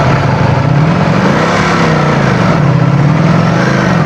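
A 2025 Ducati Panigale V4S motorcycle engine revs loudly and close, a continuous gritty roar with a gently rising and falling pitch, alone without talk.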